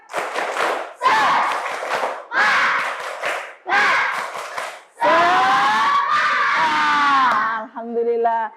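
Schoolchildren in a classroom chant the tepuk semangat together in loud, rhythmic bursts, four short shouted phrases with clapping, then a longer sung-out line and a few final sharp claps.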